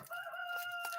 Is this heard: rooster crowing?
yes